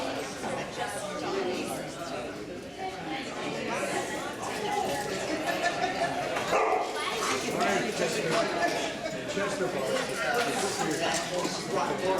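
Several dogs bark and yip in a busy, noisy space at a Feast of Saint Francis of Assisi animal gathering, with people chattering and talking over them throughout.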